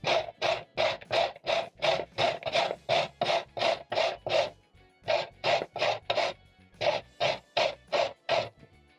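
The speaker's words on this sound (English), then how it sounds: "So I'm going to start off by grating my carrots." Carrots are grated on a sharp grater in a kitchen, a close, rhythmic series of rasping strokes, about twenty in quick succession with two brief pauses, and no talking.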